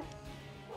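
A dog or wolf in the video game Minecraft lets out a short bark that sits fairly quietly over steady in-game background sound.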